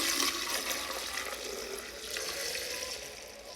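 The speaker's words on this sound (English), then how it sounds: "I'm gonna pour it." Brewed kombucha tea being poured for a second ferment: a continuous close splashing, gurgling pour of liquid that fades slightly toward the end.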